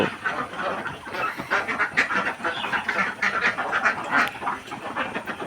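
Ducks quack over and over, their nasal calls overlapping in an uneven, busy chorus throughout, fairly close by; the flock is sick with duck plague.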